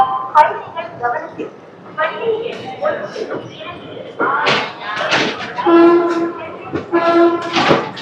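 Train 17210 from Kakinada Town to SMVT Bengaluru rumbles along with intermittent clanks and bangs, while voices talk loudly and almost constantly over the rail noise.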